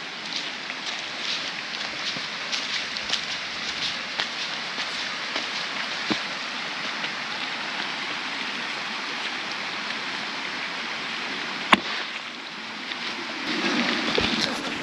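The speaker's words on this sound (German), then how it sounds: "Der nächste Wasserfall rauscht." Water rushes steadily at a waterfall near a broad mountain stream in the Nassfeld area, a continuous broadband roar with a few faint clicks and no talking.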